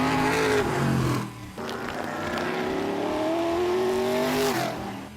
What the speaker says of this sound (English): The roar of the engines